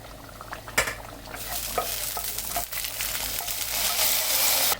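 Thickened chicken curry for a restaurant-style Munnar dish as a tempering is stirred in, producing a loud, swelling sizzle and bubbling with scattered metallic clinks and scrapes of a spoon against the pot, close and without speech.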